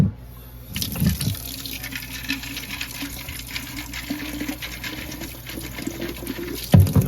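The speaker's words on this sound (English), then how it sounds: "Let's fill it up with water." Water pouring into a muddy fog light assembly during cleaning, a steady gushing fill from start to finish with a few louder splashes at the beginning and end.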